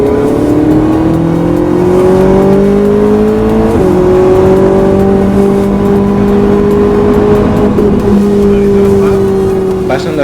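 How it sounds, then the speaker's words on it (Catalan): A Ferrari 458 Italia engine sings loudly and close on the Circuit de Barcelona-Catalunya, holding a steady high-pitched tone that climbs smoothly and shifts pitch through gear changes. "el so del motor és una melodia"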